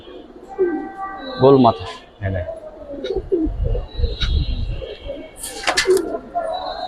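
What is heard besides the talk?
pigeon cooing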